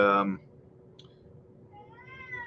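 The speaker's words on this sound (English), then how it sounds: "The cat's yelling at me." A pet cat gives one loud, insistent meow at the start, then a faint murmur follows and a voice begins talking near the end.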